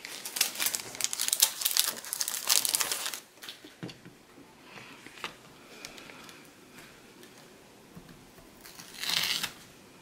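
Strips of 2 mm 3D foam tape being handled for a scrapbooking mini album, with close crinkling and rustling bursts of backing paper and tape, loudest early, then quieter scattered handling and a final crackle.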